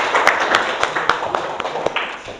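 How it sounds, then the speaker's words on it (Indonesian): Schoolchildren in a classroom clap for a group that has just presented its answer about compost, with loud, close, slightly uneven hand claps in a quick rhythm over a short burst. "kita kasih tepuk tangan dulu anak-anak"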